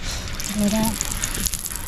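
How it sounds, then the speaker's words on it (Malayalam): Sesame oil is poured while cooking, a brief liquid gush and trickle close by, with a voice speaking over it and a few faint clinks afterwards. "നല്ലെണ്ണ ഒഴിക്കാൻ പോവാട്ടാ"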